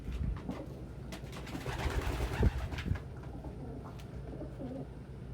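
Pigeons coo in low, throaty bursts close by, several overlapping calls repeating through the scene against faint rustling and background noise, with no talk.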